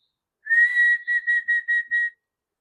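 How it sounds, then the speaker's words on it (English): A person whistles a short tune: one long rising note, then five quick, evenly spaced chirping notes. The whistling is clear and close, with silence before and after. "I don't know why I think that whistling helps."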